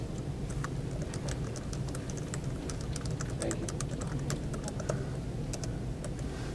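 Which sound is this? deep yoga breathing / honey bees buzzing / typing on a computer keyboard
typing on a computer keyboard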